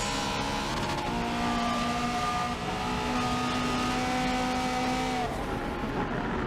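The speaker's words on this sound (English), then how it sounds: "Hellcat and that Scotty guy going side by side as that Scotty guy makes the move past." Racing game cars from the 1980s run side by side in a championship race, a steady loud engine drone with sustained tonal whines shifting in pitch as they jostle for position.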